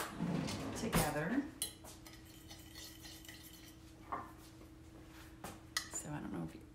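A spoon clinks and scrapes against a bowl while stirring garlic powder and pepper, with a few sharper taps of metal on the dish close by and a voice talking over it.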